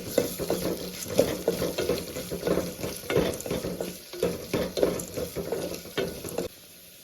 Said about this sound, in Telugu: అల్లం పచ్చివాసన పోయేంత వరకు వేసుకుందామండి.